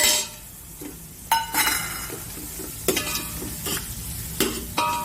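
Spring onion and green garlic fry in a pan, with a soft continuous sizzle broken by several sharp scraping and clinking stirring strokes of a utensil against the pan, close up and with no voice.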